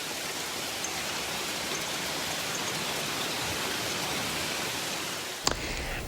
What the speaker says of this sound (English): Winona saw some pretty heavy rain and some dime-sized to ping-pong ball-sized hail